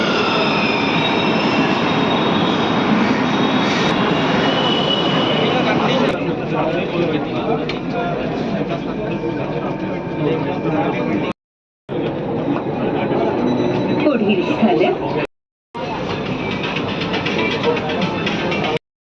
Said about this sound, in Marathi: मेट्रो आले.